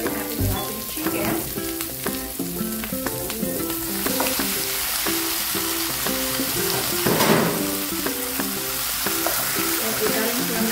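Chicken necks fry in a hot pan in Korean style, a steady loud sizzle with sputtering bursts and repeated clinks and scrapes of a utensil stirring through the whole stretch.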